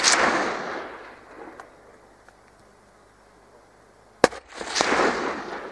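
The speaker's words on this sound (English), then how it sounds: "A second shot kills the young male instantly." Rifle shots ring out while deer hunting in New Zealand, with a loud crack at the start that decays into a long rolling echo and a second sharp report near the end, followed by more rumble.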